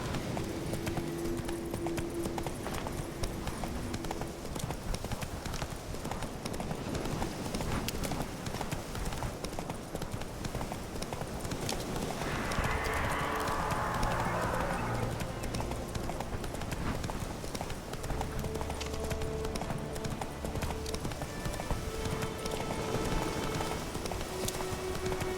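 Roach the horse galloping in the video game Witcher 3, a steady rapid clip-clop of hooves throughout, with rain-like patter and brief game sounds over it.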